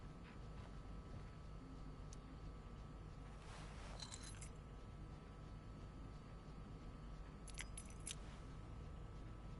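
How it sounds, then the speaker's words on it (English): Keys jangling in Life is Strange: Before the Storm, two short metallic bursts of clinking over a steady low hum of game ambience, with no talk. "I'm sure David's waiting for his keys"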